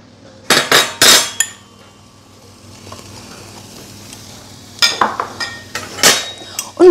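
Onions in olive oil in a pan, with clattering utensils and metal stirring scrapes in a few loud bursts over a faint steady sizzle in between.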